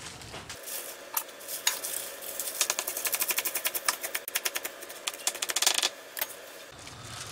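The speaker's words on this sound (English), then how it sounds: "So we're going to chop all this stuff up now and mix it all together." A knife chops fruit and vegetables for tortoise food in quick, steady taps on a board, the clicks speeding into a dense run before slowing and stopping.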